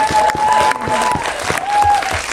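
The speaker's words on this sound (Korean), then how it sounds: "이정재 배우 박수 좀 주세요" A cinema crowd at a film Q&A with actor Lee Jung-jae gives loud, steady applause, a dense wash of clapping with a few sharper claps standing out.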